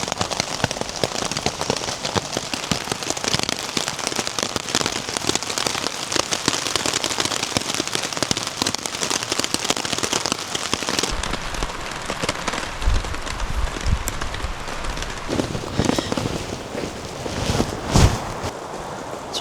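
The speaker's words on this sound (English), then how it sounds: "It's raining." Steady rain pattering on a tarp at a wilderness campsite, a dense continuous hiss with occasional louder drips and taps, close by and with no talking.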